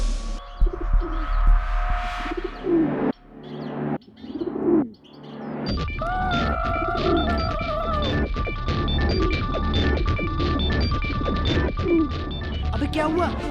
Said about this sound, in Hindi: भाई कबूतर इधर है